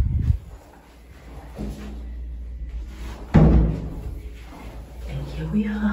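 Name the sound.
doors opening and closing in an apartment building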